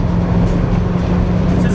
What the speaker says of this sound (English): Let's get into the passing gear here and get around this truck. So you hear that kick down?